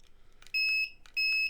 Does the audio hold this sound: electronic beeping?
yes